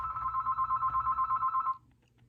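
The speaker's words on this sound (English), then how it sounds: "I am really sorry that the phone's ringing." A telephone rings in the room with a fast warbling, pulsing tone for almost two seconds, moderately loud, then stops, leaving low background noise.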